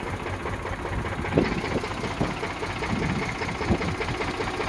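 Eicher 485 tractor engine idling steadily, a close, continuous low rumble with faint knocking pulses, no voices over it.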